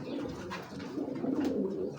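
Soft, low pigeon cooing repeats in a steady murmur, fairly close, with no one speaking.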